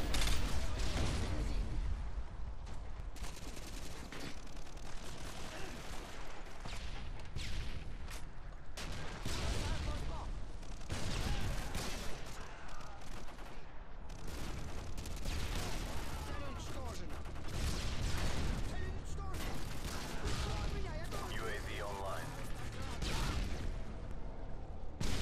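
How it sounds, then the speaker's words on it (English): Heavy enemy and teammate fire echoes into a small tunnel on the Sub Base map of Modern Warfare 2, with continuous dense bursts and booms layered throughout. "So here I was hearing a lot of enemy and teammate fire into that little tunnel"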